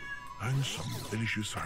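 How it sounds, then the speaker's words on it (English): A pet cat meows to be let outdoors, its cry mixed in with someone talking over it at close range. "Yeah, that's my cat. She wants to go outside."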